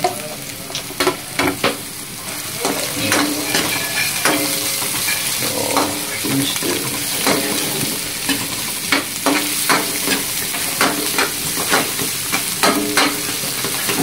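Garlic sizzles steadily in hot oil while frying for Kapampangan sisig, with frequent stirring scrapes and clicks of a utensil against the pan, close and fairly loud, with no talking.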